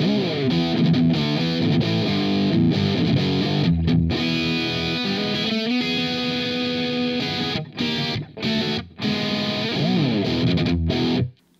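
Distorted electric guitar through a Two Notes Torpedo Captor X with a scooped, hollow midrange plays a riff of sustained chords and short palm-muted stops, loud and close.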